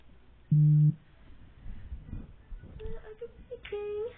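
A phone speaker plays a short electronic tone, then brief melodic beeps near the end, faint and thin under quiet room noise.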